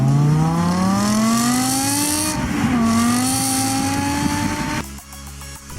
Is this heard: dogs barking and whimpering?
no